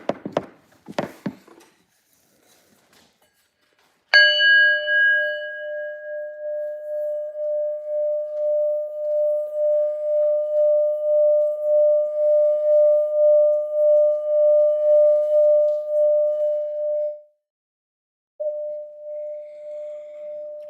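Singing bowl struck after a few taps and handling noises, then a long, pure, steady ring that pulses gently and slowly fades, briefly stops, then rings again, loud and close.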